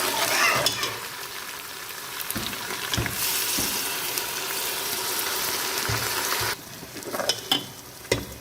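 Onion and garlic frying in a pan, a loud close sizzle that surges and fades as the pan is stirred, with brief scrapes and clinks between bursts.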